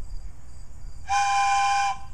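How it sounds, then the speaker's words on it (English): A single steady blast from a handheld train whistle, bright and harmonic, holds for just under a second over a quiet background, then cuts off. "It's a train whistle. It's our train whistle."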